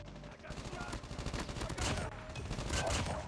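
Rapid hip-fire gunshots from a Type 25 rifle in Call of Duty Mobile, a quick rattling burst of closely spaced shots followed by further bursts, fairly quiet overall.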